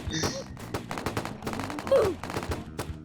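Pistol gunfire in the Roblox shooter game Pubblox comes as rapid sharp cracks in quick bursts, loud and close, with a player talking excitedly over the shots.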